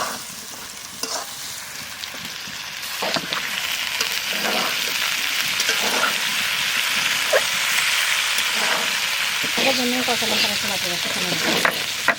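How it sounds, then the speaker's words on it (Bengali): Pieces of mankochu taro frying in a pan, a continuous bright sizzle of hot oil with scattered pops and scraping stirs, close and fairly loud throughout. "কচু ভাজা হয়ে গেছে"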